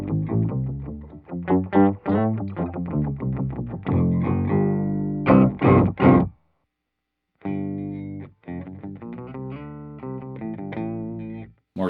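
Guitar run through an octave-down preset on a Temple Audio Trio 21 pedalboard, giving deep, thick, slightly distorted notes in choppy phrases with a brief silent gap midway.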